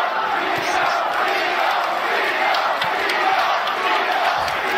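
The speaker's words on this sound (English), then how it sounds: "The crowd is loving what they are seeing out of Brooklyn's Teofimo Lopez" A dense boxing arena crowd roars and cheers steadily throughout the Teofimo Lopez vs Josh Taylor fight, a continuous loud wash of voices with no breaks.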